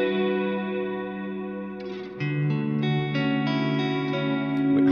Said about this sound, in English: So now let's say I want a very low reverb sound.